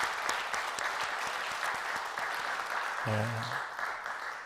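A church congregation claps for its district and ministry leaders during a Sunday service, a moderate wave of applause with a pastor briefly speaking near the end.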